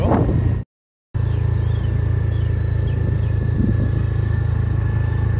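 A learner rides a motor scooter on a road, and its engine makes a steady, close hum with low rumble. The hum cuts out briefly near the start and then carries on evenly, with faint birdsong in the background.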